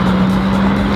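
A car is heard at close range as a steady, loud engine and road drone with a constant low hum that holds for the full second, with no distinct pass-by swell or braking sound.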